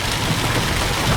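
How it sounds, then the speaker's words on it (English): Steady rain pours down during flooding in Troy, New York, a dense, loud hiss of drops hitting surfaces with no voices. "So there is more rain."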